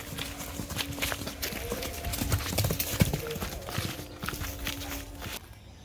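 A horse's hooves clip-clop rapidly and rhythmically during training, fairly close and steady for several seconds before fading, with faint voices in the background.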